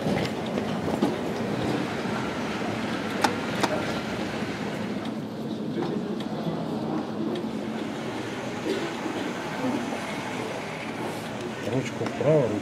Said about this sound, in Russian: почему у меня только один поезд работает?